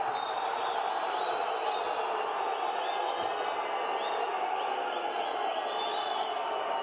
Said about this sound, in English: You hear the displeasure from the French crowd here.